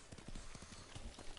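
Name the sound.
horse hooves as player mounts, Ghost of Tsushima video game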